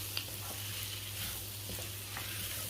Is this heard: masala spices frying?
yes